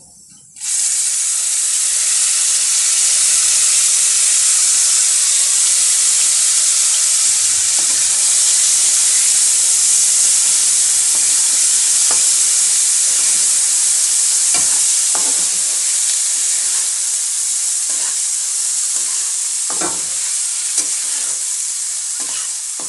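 Rice for prawn polao fries in a hot pan with a strong, steady sizzle and hiss that holds loud and continuous throughout, with occasional crackles and stirring scrapes.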